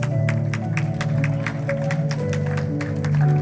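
A church congregation clapping together during a worship service, a dense run of hand claps that continues throughout over sustained background music.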